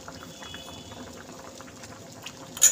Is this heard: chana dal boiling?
yes